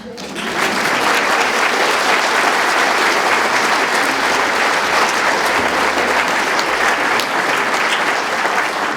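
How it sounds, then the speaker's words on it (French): A theatre audience applauds a group of sisters with sustained, dense clapping that starts suddenly and stays loud and steady throughout. "Allez, on les applaudit, les sœurs."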